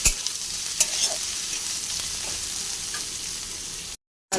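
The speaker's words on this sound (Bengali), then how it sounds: "এবার দিয়ে দিলাম পেঁয়াজ কুচি। ভালো করে ভেজে নেব।" Chopped onion hisses and crackles in hot oil in a pan for a katla fish curry, with a few sharp stirring clatters; the close, steady sizzle cuts out briefly near the end, and no one speaks.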